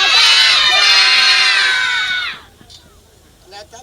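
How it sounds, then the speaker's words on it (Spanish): A large audience of children at a live music show shouts loudly together in one sustained, full-throated cry lasting about two seconds, then cuts off abruptly into a quiet room with faint scattered noise. "Tenemos que gritar por última vez, pero más fuerte"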